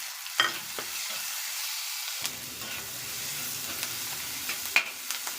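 Chopped green chillies sizzling in hot oil in a pan, a steady close frying hiss broken by a few sharp clicks and pops.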